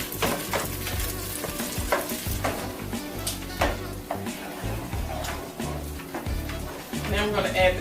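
A butter and flour roux with Pinot Grigio being stirred in a pan: a continuous sizzle broken by repeated scraping strokes of a utensil against the pan, close and fairly loud, while a person talks.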